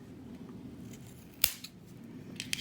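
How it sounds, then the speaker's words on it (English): Scissors snip cotton wick for a Wotofo Profile Unity RTA, one crisp close cut followed by a lighter second snip, faint and quiet with no talking. "I just go ahead and cut it right here."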